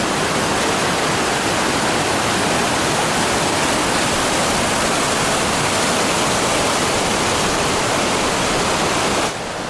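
A big river rushes through a gorge, a loud, steady broadband roar of churning water that fills the whole stretch without a break and then cuts off abruptly.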